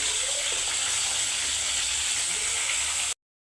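Sliced onions and whole garam masala fry in hot oil for chicken malaikari, giving a steady, dense sizzling hiss that holds evenly for about three seconds before cutting off abruptly.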